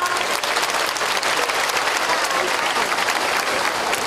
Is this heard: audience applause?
yes